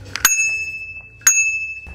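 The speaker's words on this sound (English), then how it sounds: "One great little tool is your handlebar bell." Two bright rings of a small handlebar bell, about a second apart, close and crisp with a brief metallic shimmer after each.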